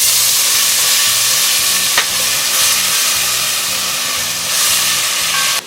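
Onions fry loudly in a pan with cumin seed, cinnamon and cloves for a chicken tikka masala curry, a dense, close, continuous sizzle with a single sharp clink partway through.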